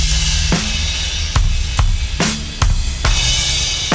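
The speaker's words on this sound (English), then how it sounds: "this is the drums on their own." Isolated drum track from a recording: loud, close hits with booming low drums and crashing cymbals landing in a slow, evenly spaced pattern, about eight strikes, no voices.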